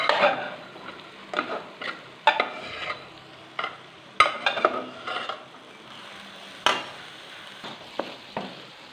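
Boiled dal is mixed and fried in masala in a pot, with a run of sharp spoon scrapes and clanks against the metal at an irregular pace over a faint sizzle, close and fairly loud.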